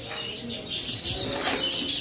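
Two serindit hanging parrots in a cage give thin high chirps and soft twittering, close by, with faint rustling and no talk.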